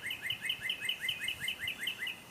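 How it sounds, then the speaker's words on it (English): Birds chirp outdoors in a quick, regular series of bright tweets. The calls repeat evenly throughout at moderate distance, with no voices. "Birds! Birds!"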